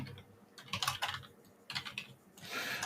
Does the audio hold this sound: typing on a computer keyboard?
yes